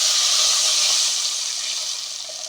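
Strained tamarind water for rasam pours into a hot pan, a steady loud hissing gush that fades slightly as it continues, with no voices over it.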